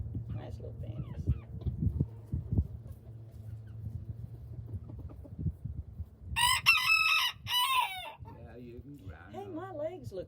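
Bantam chickens cluck low and scattered around a yard, and near the end a rooster lets out a clear, loud crow. Voices talk quietly underneath.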